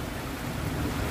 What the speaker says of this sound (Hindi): देखा बारिश होता ना